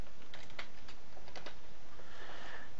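Fingers tap at a computer keyboard while code is edited in a Windows automation tool, giving quiet, irregular clicks in short clusters over faint background hiss.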